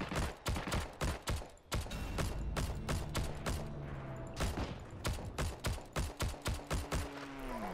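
Gunfire in a Heroes and Generals match at a villa, with dense bursts of loud, close shots crackling rapidly in repeated volleys, including a sustained automatic stretch, without any talk.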